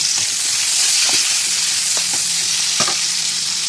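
Chopped onions and green chillies sizzle and fry steadily in hot oil in a pan, a continuous close hiss with a few soft stirring knocks.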